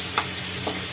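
Steady sizzle of brinjal frying in oil, with two soft stirring scrapes against the pan a moment apart. No one speaks.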